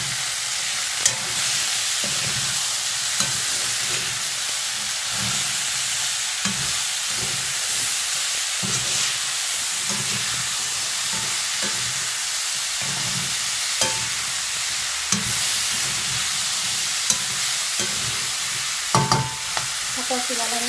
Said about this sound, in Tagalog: Tapos, haluin ulit.